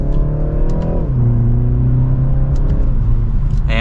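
A 2024 BMW 330i M Sport in sport mode pulls hard in second gear. A loud, steady engine drone is heard from inside the cabin, its pitch shifting as the revs climb, and nobody speaks.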